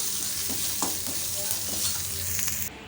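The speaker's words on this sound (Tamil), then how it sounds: "இந்த எண்ணெயிலே எல்லாமே நல்லா தாளித்து ரெடி ஆகட்டும்" Tempering spices sizzle and crackle steadily in hot oil, close and continuous, with a few stirring scrapes and small pops, then the sound cuts off abruptly near the end.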